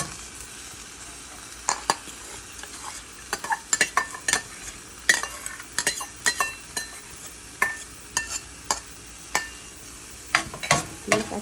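Soaked fenugreek seeds stirred into sautéed onion in a pan, giving repeated scraping clicks and clinks over a soft steady sizzle, close and fairly loud.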